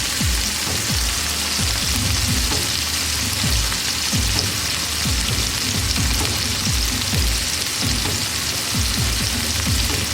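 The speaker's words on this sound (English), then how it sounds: "let you watch that sizzle for a little bit, because it's kind of fun." Steady, dense sizzling of chicken frying in a hot pan, a continuous crackling hiss with small pops scattered throughout, close and fairly loud, no talking.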